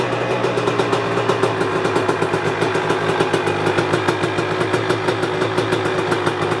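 A 2023 KTM 300XC two-stroke dirt bike idling steadily after starting with cold start on, a loud, even, rapid pulsing engine note close by, with no voices.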